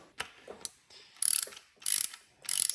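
Clicking ratchet strokes tightening bolts during a Porsche 911 engine assembly in the bank 2 camshaft area, with short bursts of fast ratcheting separated by brief pauses and scattered softer tool clinks, close up and with no talking.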